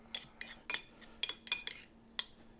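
A utensil stirs a mixture in a pot while holiday food is cooked, giving about eight irregular, close metallic clinks and scrapes with no talking.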